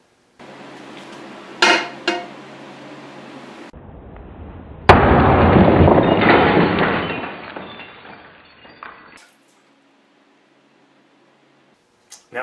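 A Kershaw Siege tomahawk strikes thick glass, slightly thicker than a house window, producing sharp impacts followed by a loud burst of shattering and falling shards that trails off into scattered tinkling, with no speech.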